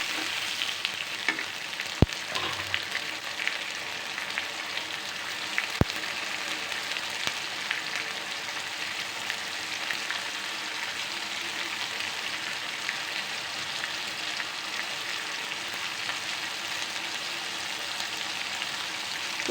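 Ginger garlic paste sizzles and fries steadily in a hot pan, a dense continuous crackle with a couple of sharp clinks early on, no voices over it.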